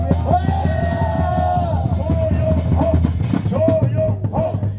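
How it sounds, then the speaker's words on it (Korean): Large crowd at a Korean political rally yelling and whooping loudly together, a sustained roar of voices with rising shouts throughout. "큰 함성과 박수"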